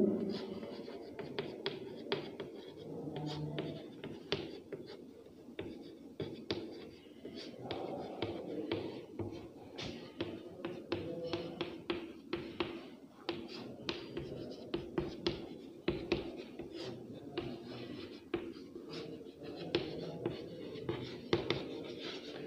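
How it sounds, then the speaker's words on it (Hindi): Chalk or a marker writes a sentence across a classroom board, quick scratchy strokes and taps in an uneven rhythm, close and fairly quiet, with a faint low murmur in the background. "अब जैसे मैं ये वाक्य पूरा इस तरह लिख दूं"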